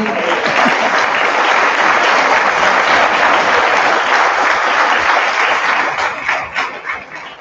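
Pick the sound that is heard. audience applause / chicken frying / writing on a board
audience applause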